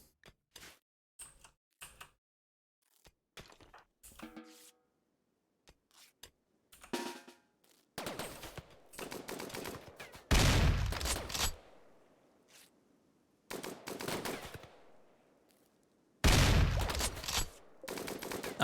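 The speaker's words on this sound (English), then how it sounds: "I love the sound of the anti-mech rifle." Anti-mech rifle gunfire in the video game RimWorld: a spread of sharp, scattered shots and clicks at first, then several heavy, booming blasts with long ringing tails, loud and close, with no talk.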